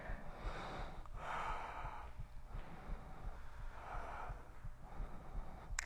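Slow, audible breaths during a yoga flow class, soft inhales and exhales rising and falling in a loose rhythm over a low background rumble, with no talking.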